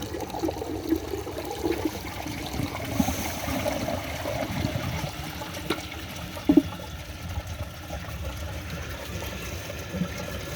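A 1999 Crane Atlas early water-saving toilet flushes with a steady rush and gurgle of water, clogged by a washcloth and grocery bag, running continuously at moderate level.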